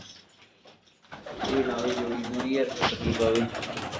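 Soft, low cooing of pigeons rising after a quiet start, with a faint voice murmuring nearby.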